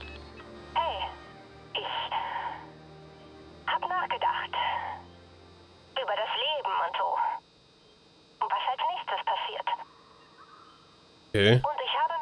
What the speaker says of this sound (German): hier ist ein Anruf